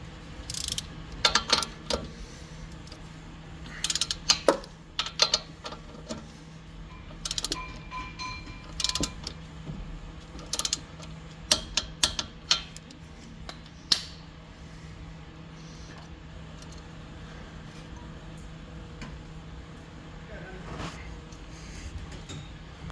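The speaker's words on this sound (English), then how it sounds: "Now we just need to torque the tie rod." A torque wrench tightening the tie rod on a 2006 Acura RSX during a lowering-kit install, close ratcheting clicks in short bursts with metallic taps and pauses between them.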